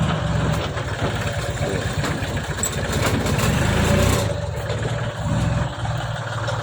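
A tractor engine runs steadily at close range while pushing cow dung, a continuous mid-pitched rumble with slight surges and no speech.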